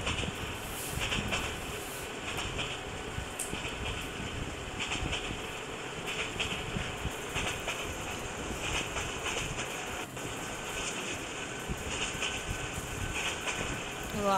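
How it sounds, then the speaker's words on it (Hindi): A train runs in the mobile video game City Train Driver Simulator 2021, giving a continuous rumbling rail noise with a steady engine drone throughout, fairly loud and unbroken. "ये देखिए हम लोग ट्रेन का गेम खेल रहे हैं"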